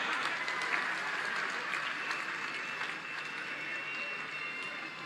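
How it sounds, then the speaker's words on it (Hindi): A crowd claps steadily and loudly through a ceremony in Lucknow, where Uttar Pradesh honours Olympic athletes, including Shivpal Singh, the 2019 Military World Games gold medallist. Voices murmur faintly beneath the sustained applause. "तो तालियां जोरदार हो जाएं।"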